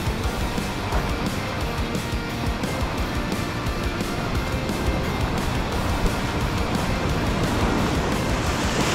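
Broad, steady ocean surf washes continuously with a rough, windy roar and no clear breaks between waves.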